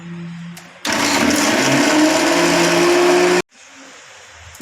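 A mixer grinder starts up loud and runs in a steady, dense whir for a few seconds, then cuts off abruptly, with quieter kitchen background before and after.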